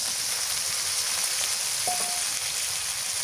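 Prawns go into a hot pan for a green banana and prawn curry, setting off a dense, loud, even sizzle that holds steady, with a brief faint tone partway through.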